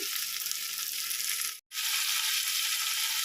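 Potatoes fry in a pan with salt and turmeric, a bright steady hiss of sizzling oil that cuts out for a brief moment midway, then returns at full strength.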